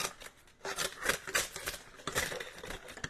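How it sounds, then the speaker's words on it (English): Crisp, repeated snipping of scissors trimming the edges of baking paper for a cake, close by, in an irregular rhythm of quick cuts, with no voices. "Now with the scissors, I'm just going to trim the edges."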